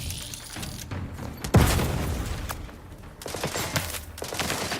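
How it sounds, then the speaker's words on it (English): A grenade goes off in The Outer Worlds 2 amid a firefight: a sharp, loud blast followed by a rumbling boom, with scattered gunfire-like bursts and combat noise before and after. "Grenade!"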